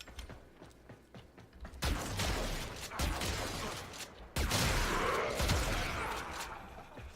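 Heavy shotgun blasts in the sci-fi shooter Warframe, loud punchy bursts at about two, three and four and a half seconds, each trailing into a dense, noisy wash of gunfire and mechanical clatter over low game rumble.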